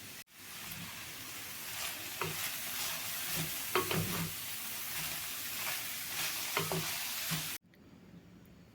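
Steady sizzling of finely chopped cabbage frying in a pan until soft, with occasional stirring clicks and scrapes, running continuously before cutting off abruptly.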